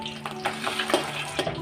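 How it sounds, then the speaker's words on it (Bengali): Fish frying in a pan: a quiet, steady sizzle with faint clinks and scraping, heard alone at low volume. "আমি মাছটা ভাজতে দিয়ে এসেছি"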